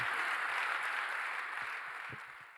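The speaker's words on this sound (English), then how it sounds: "Could we all give them a big round of applause as we welcome them on stage?" Steady applause from an event audience welcoming speakers onto a stage, a continuous even roar of many hands that tapers slightly toward the end, with no talk over it.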